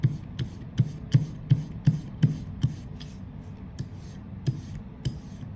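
A small brayer rolls tube ink across a linoleum block, giving a tacky, rasping sound with repeated soft smacks at a roughly steady rhythm, close and fairly quiet, with no voices.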